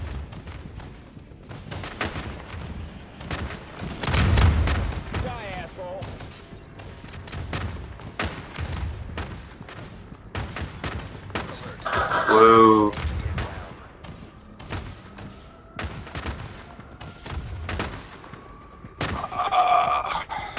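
Gunfire in The Division during the Falcon Lost heroic mission, with scattered thumping shots and bursts under players talking over voice chat throughout.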